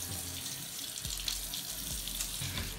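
Water runs steadily from a household faucet as a broad, constant hiss and splash, close and fairly loud, with no talk over it.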